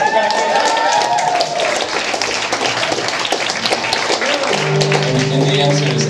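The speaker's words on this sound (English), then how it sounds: "Let's give James a round of applause." Audience members at a live concert give a round of applause, a broad wash of clapping that fills the room before sustained musical tones take over near the end.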